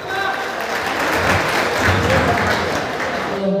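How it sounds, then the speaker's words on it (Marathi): An audience claps at a mini sound-system competition to welcome a prize presenter. Steady, moderately loud applause runs for a few seconds, with a murmur of voices mixed into the room noise. "सर्वांनी टाळ्या वाजून स्वागत करायचंय."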